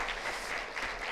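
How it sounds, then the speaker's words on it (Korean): Church congregation applauding during a Sunday service, a steady wash of clapping heard from a moderate distance, short and even. "우리 같이 박수 한번 다시 한번"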